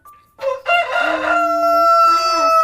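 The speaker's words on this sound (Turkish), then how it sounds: "Bu da horoz." A toy rooster sounds a loud electronic cock-a-doodle-doo crow, one long drawn-out call after a short beep, close and clear.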